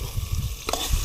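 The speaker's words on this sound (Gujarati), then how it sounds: "હવે બરોબર મિક્સ કરી નાખીએ." Crushed chilli with garlic is stirred into sizzling ridge gourd in a pan for a ridge gourd and patra curry. Close frying hiss carries under a sharp scrape of the spoon partway through.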